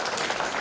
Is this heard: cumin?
no